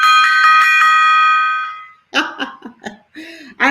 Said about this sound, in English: that would be a good reason to hit my gong